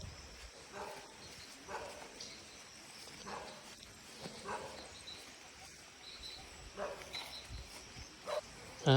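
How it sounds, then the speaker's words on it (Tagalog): A dog barks repeatedly in the distance, scattered short barks over outdoor background noise. "Kaya lang may aso."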